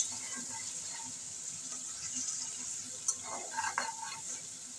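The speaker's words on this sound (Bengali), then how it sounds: "সামান্য একটু জল দিয়ে দিচ্ছি যাতে মশলাটা না পুড়ে যায়, তা ভালো করে কষানো হয়ে যাবে" Spice paste with tomato pieces and a splash of water frying gently in a pan for a Bengali rohu fish and eggplant curry, a soft continuous sizzle with a few faint stirring clicks near the end.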